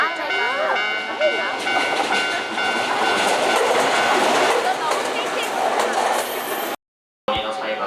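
Tokyo subway train riding toward Ginza, a steady loud rumble of the carriage with rail clatter throughout, people talking over it, ending with a brief cut to silence.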